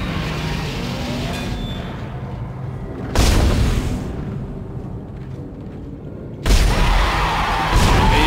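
Gunshots fired at dead bodies in the horror video game Dead Space ring out as two loud, heavy blasts several seconds apart, each with a booming tail over a dark rumbling ambience.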